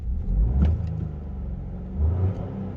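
A Peugeot 2008 1.2 PureTech three-cylinder petrol engine in a 2015 SUV is revved twice, a throaty rasping rise near the start and a second shorter surge later, over a steady idle with no talking.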